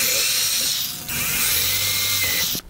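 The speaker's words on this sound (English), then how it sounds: "We're going to want to drill a 1/8 hole on each side plate" Power drill boring small 1/8-inch holes into the side plates of a walking robot, a high whining spin about two seconds long with a brief dip in pitch as it bites, close and alone.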